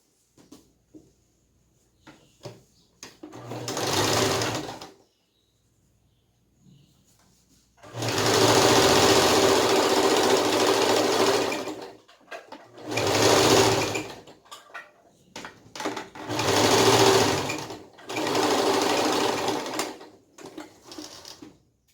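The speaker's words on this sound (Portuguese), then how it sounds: "A gente vai costurar essa lateral e essa lateral por enquanto." Sewing machine stitching the side seams of a doll's fabric trousers, running in four separate bursts of rapid, steady whirring with short quiet pauses between them, close and loud with no talking.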